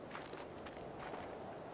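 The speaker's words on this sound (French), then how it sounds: "c'est le bruit des sabots des caribous" Caribou hooves in a cartoon, a soft, steady patter of many hoofbeats under a hissy, faint background, with no talking.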